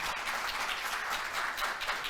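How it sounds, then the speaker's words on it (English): A conference audience applauds at a tech talk on cloud multi-tenancy: steady, moderately quiet clapping from a room of people, continuous throughout with no speech. "give a big round of applause to Mario"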